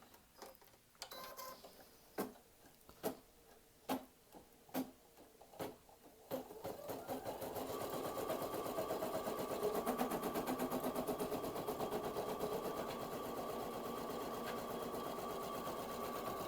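An embroidery sewing machine stitches a towel topper held in the hoop: a few sharp mechanical clicks and thumps give way to a steady, loud, whirring hum of rapid stitching that runs on continuously.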